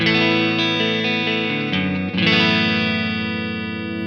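A clean electric guitar tone runs through a Two Notes Genome amp simulation with the bright switch on, giving sustained, ringing chords with a shimmering effect and a brief change between chords midway, and no talking over them.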